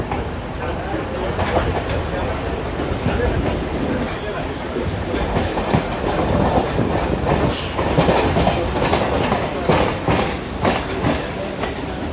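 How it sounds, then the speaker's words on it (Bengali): A Kolkata circular railway train rolls along a curve beside the Ganga, with a loud continuous rumble, rhythmic wheel clatter and occasional squeals, while voices talk throughout. "গোল হয়ে ট্রেনটা ঘুরবে এত অপূর্ব না"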